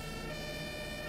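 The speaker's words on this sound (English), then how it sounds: "Got the siren." A fire truck siren wails steadily and loudly in the Farming Simulator 15 video game, a continuous tone held at close range over a dense engine rumble, with no talking.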